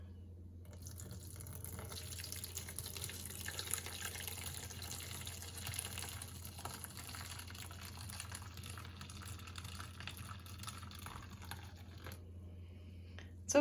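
Whey and curds for homemade ricotta pour in a steady, continuous liquid stream into a draining basket, a soft sustained splashing that runs for several seconds before stopping abruptly.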